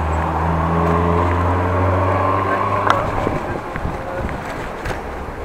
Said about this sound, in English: now the wind is blowing in the face, so oh, jolly not nice